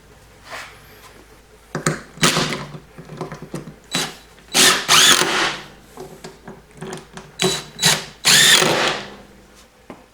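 A power drill drives screws into a pre-drilled, countersunk panel for a miter saw cart, sounding as repeated loud, close whirring bursts of one to two seconds, each separated by short quiet gaps.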